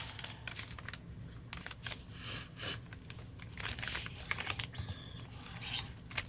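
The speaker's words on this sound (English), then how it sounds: "So then we're going to fold it in half." A sheet of paper is folded in half to make a handmade journal cover, giving close, dry crinkling and rustling with quick crisp bursts of handling. No one speaks.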